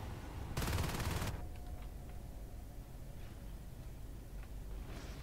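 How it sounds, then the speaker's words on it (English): Shotgun fire in a competitive match of a multiplayer video game, a short loud burst of blasts followed by quieter scattered game sounds. "Here come shotguns."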